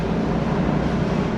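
A 2003 Mercedes SL500 with failed ABC suspension drones steadily through a brief kick-down rolling pull, its low, even engine roar holding constant for a moment with no talking.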